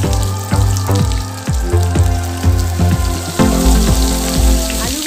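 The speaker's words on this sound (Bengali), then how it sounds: "তেলটা ভালো করে গরম করে নিয়ে প্রথমে আমি আলুর টুকরোগুলো দিয়ে দেব।" Potato pieces dropped into hot oil for Bengali aloo dum, giving a loud, steady bubbling sizzle with repeated splashy bursts as pieces hit the pan, heard alone without voices.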